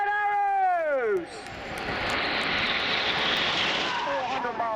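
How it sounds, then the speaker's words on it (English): Royal Air Force Red Arrows aerobatic jets roar past at a 2016 airshow, a falling whine from the approaching formation giving way to a loud, sustained broadband rush. "It's the Royal Air Force aerobatic team for 2016, the Red Arrows."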